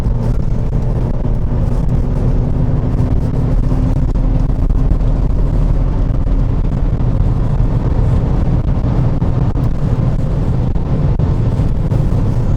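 Volkswagen Passat CC with its exhaust cut out, accelerating at highway speed: a continuous loud engine drone mixed with heavy road and wind roar from inside the car, steady throughout without speech.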